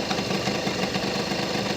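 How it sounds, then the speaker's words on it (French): A motorcycle engine idles steadily at low revs after its carburetor mixture screw is adjusted, a close, even, slightly knocking rumble with constant vibration and no talk. "retrouver un régime de ralenti le plus bas possible, sans que le moteur cale et sans que la roue arrière ne tourne"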